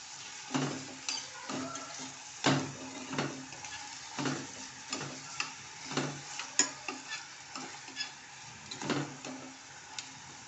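Finely chopped tomato sautéed in a pan for dal khichdi gives a light frying sizzle broken by repeated spatula scrapes and taps against the pan, a close, irregular rhythm with no one talking.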